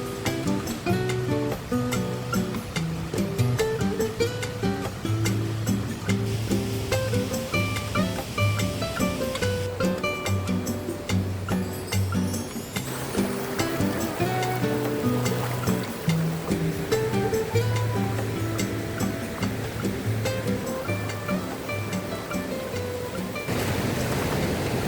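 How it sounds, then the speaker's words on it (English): Ugly Corner Falls, a waterfall running full after rain, rushes steadily and continuously for the whole stretch, a close, dense wash of water with no voices over it. "That was Ugly Corner Falls."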